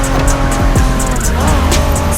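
A 1990s Honda NSX driven in The Crew Motorfest on PS5, with a steady engine drone plus brief tire squeal and shifting pitch, loud and continuous across the short stretch.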